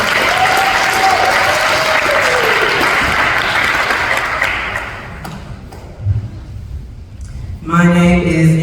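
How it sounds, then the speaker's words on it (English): A crowd at a 2022 college prep scholarship awards ceremony claps loudly for graduating students, dense applause that fades over several seconds before a brief tonal sound near the end. "Please give yourselves a round of applause"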